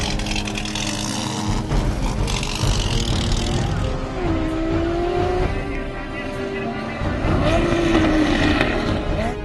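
Off-road racing cars at an Indonesian extreme offroad race in Serang, Banten roar and accelerate loudly, engines rising and falling in pitch with rough revving throughout, a voice speaking over the noise.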